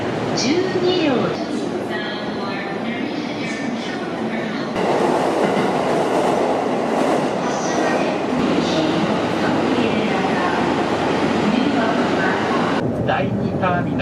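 Rolling rumble and rail clatter of a train at Narita Airport station in Tokyo, with wheel squeal and station announcements, continuous and close for the whole stretch.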